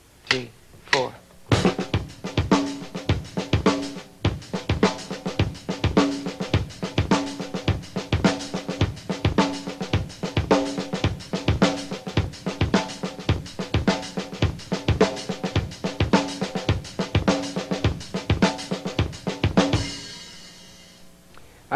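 A drum kit played up to tempo by a drum instructor from 1993, with a steady, busy groove of strong kick and snare hits and cymbal wash, close and loud, ending on a ringing crash.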